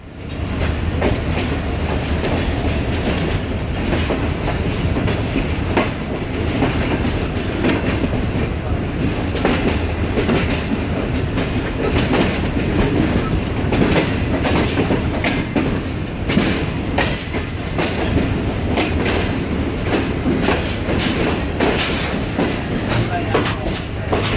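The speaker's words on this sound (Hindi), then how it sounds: "हमारे सामने से 40 डाउन जाफर एक्सप्रेस भी निकल रही थी" The 40 Down Jaffar Express passes at Lahore Junction with a loud, steady rumble and continuous clickety-clack of wheels over rail joints that lasts the whole stretch.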